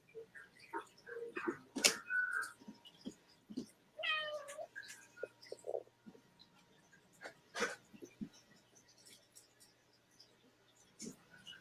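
Hungry house cat meowing for food, several short close meows scattered through the clip, with people talking in between and over them.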